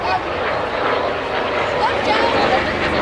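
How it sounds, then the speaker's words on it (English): P-51 Mustang warbird with a 1,500 horsepower V-12 flying past at a beach air show: a steady, loud propeller-engine drone holding throughout over a crowd's background murmur. "The P-51 Mustang flying by, powered"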